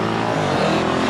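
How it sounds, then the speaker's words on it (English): Several enduro motorcycles fire up from a dead engine start at the Bitter End Enduro near Rock Falls, Illinois, a dense, continuous roar of engines close by, with no talk. "It's a dead engine start."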